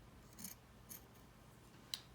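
Scissors snip through cloth for a homemade face mask, three short crisp cuts spaced apart, quiet and close with no talking.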